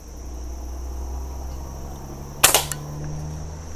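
Umarex NXG multi-pump air rifle firing a steel BB, one sharp close crack followed by a couple of quick rattling impacts, over a faint steady background hum with crickets.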